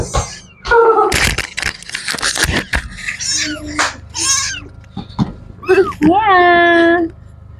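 Several high, wavering meows from a kitten, close and loud, mixed with people talking nearby; one voice may imitate the meow.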